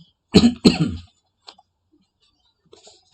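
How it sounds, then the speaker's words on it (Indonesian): Two quick, harsh coughs from a teacher choking mid-speech in a primary-school lesson, close to the microphone, then near silence broken only by a few faint ticks and small stray sounds. "ini keselak bicaranya ya, agak batuk sedikit ya"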